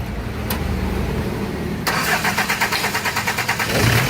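An Isuzu C240 diesel engine, smoky with an unsteady idle, cranks and catches into a rhythmic, close chugging idle that firms up toward the end, with no talk over it.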